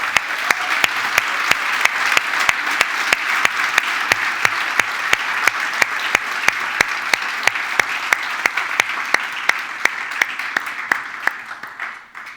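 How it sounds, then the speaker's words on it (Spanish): A church anniversary celebration fills with strong audience applause, steady dense clapping sustained for about twelve seconds before it starts to fade at the end. "le demos un fuerte aplauso a ese homenajeado"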